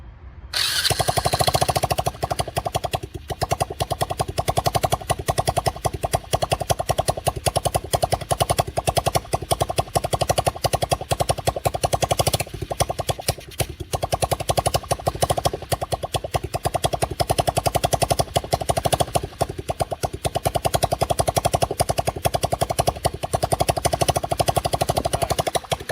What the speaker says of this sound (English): The engine running.